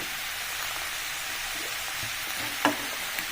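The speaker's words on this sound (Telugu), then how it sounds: "ఇవన్నీ ఇట్లా మంచిగా కలుపుకోవాలి" Ingredients for a brinjal and fenugreek curry stirred in a hot pan, giving a steady, close frying sizzle throughout with a couple of brief clinks from the spoon near the end.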